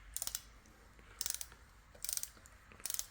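A hand ratchet clicks in four short, rapid bursts while starting bolts on a Subaru FB20/FB25 engine during a rebuild, each quick run of metallic pawl clicks close and crisp over a quiet shop background.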